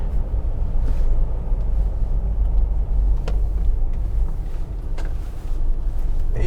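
Inside a 2003 Toyota 4Runner V8 with off-road tires, a steady low engine and road rumble fills the cabin as it drives, with occasional small knocks and rattles.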